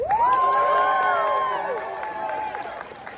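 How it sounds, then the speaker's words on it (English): A convention crowd at an improv show bursts into loud cheering, whoops and applause, peaking early and then slowly thinning out, heard close and full with many voices shouting together. "By a round of applause or cheers, how many people have seen improv before?"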